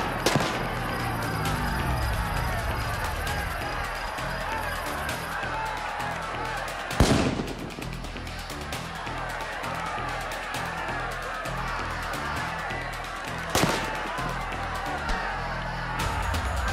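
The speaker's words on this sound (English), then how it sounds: "They're using rubber bullets" Crowd noise drones on during a riot scene in the video game RIOT: Civil Unrest, and two sharp bangs stand out from it as police fire rubber bullets, with shouting voices underneath.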